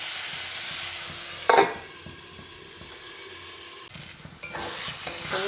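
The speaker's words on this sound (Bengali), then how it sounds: "এই ধুয়ে কেটে রাখা টমেটোগুলো এর মধ্যে দিয়ে দেবো আবার চাপা দিয়ে দেবো" Washed, chopped tomatoes go into a pan of frying spiced masala, bringing a sudden loud sizzle and splash, then a quieter steady frying hiss with a few scrapes and another burst of sizzling near the end.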